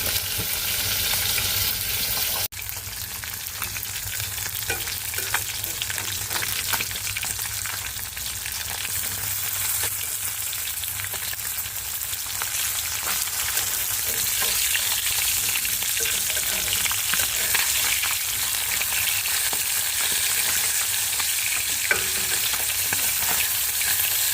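Fish frying in a pan in a small tin-roofed home kitchen, a steady close sizzle and crackle of hot oil that holds for the whole stretch, with faint stirring underneath and no talk.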